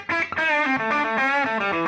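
An electric guitar with a gain stage added plays a quick run of sustained, gritty distorted lead notes, loud and close, with no talking.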